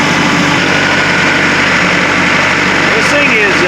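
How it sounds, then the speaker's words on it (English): A Kubota MX5200 tractor engine runs steadily at about 1500 RPM, a loud, constant mechanical drone close by, with a voice speaking faintly over it. "I'll leave it run at about 1500 RPMs for a few minutes"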